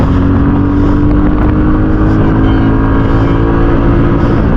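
A 2021 Royal Enfield Classic 350 BS6 motorcycle pulls hard in first gear. The engine drone is loud and continuous, mixed with heavy wind rush and no pause in the roar.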